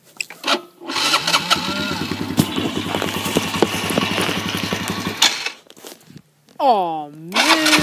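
A Polaris motorbike engine cranks and catches, sputtering and revving unevenly at close range, then cuts out before a brief rising whine; voices speak over it.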